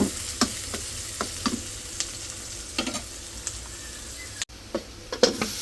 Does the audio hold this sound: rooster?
no